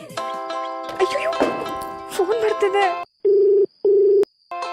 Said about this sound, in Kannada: ಫೋನ್ ಮಾಡ್ತಿದ್ದಾರೆ. ಏನ್ ಮಾಡ್ಲಿ?